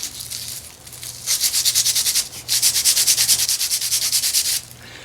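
Cheap sandpaper scrubbing wood on a peg loom, loud rapid back-and-forth rasping strokes in two long rhythmic runs with a brief pause between.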